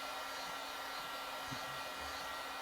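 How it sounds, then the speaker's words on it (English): A heat gun blowing hot air onto a Whirlpool refrigerator freezer door gasket, a steady, even whoosh of airflow with a faint hum, held throughout at moderate loudness with no voices. "you can use the heat gun in that area where the gasket is not touching properly the cabinet"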